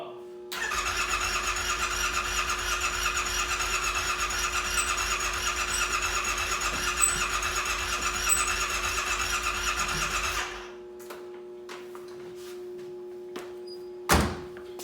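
A 2018 Yamaha Wolverine 850 side-by-side runs rough with a steady, buzzy engine drone for about ten seconds, then cuts out, followed by quiet clicks and one sharp thunk near the end.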